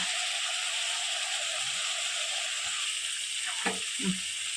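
Spices and green chillies fry in hot oil, giving a steady, bright hiss from start to finish. Near the end, two short clattering stirs sit on top of the sizzle.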